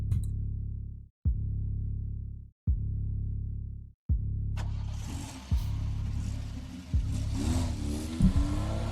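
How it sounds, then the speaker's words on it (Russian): A low car engine drones and cuts out several times, then a car starts moving and pulls away with rising road noise. "Звук мотора уезжающей машины запустил отсчет времени."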